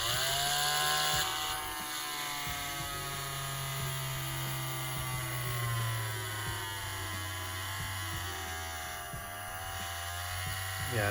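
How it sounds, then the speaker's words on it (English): A power drill at slow speed bores into the hard plastic arm of a Marvel Legends action figure, giving a close, steady whining motor drone that runs continuously with slight pitch dips under load. "So what we want to do is drill in just a little bit."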